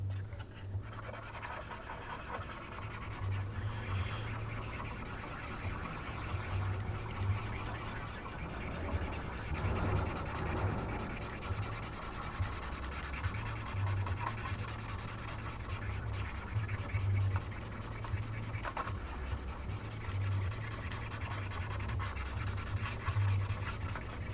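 A cotton bud rubs over the surface of a 1/48 scale Tamiya F-4B Phantom model aircraft, making a soft, continuous close scratching and brushing that runs throughout under a low steady hum.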